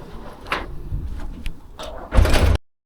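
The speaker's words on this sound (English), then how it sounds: "when I shut this garage door" A garage door is pulled shut, with sliding rattles building to a loud, heavy closing thud before it stops abruptly.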